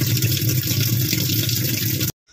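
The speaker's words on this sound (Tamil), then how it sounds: "இப்போ நீங்க ஆன் பண்ணீங்க, இந்த மாதிரி சர சர சரன்னு நிறைய தண்ணி வந்து பாயும்." Water gushes into a washing machine, a loud, steady rushing pour close by that stops abruptly at the end, with no voices.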